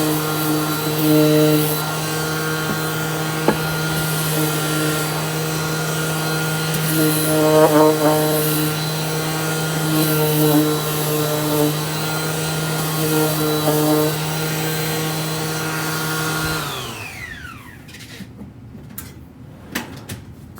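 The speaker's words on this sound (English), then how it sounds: "I'm gonna do a little sanding, and I just have this really awesome handy cordless sander" A cordless sander works over a painted wood block, giving a steady whirring hum with harmonic whine and small rubbing shifts as it moves, then winding down and stopping near the end.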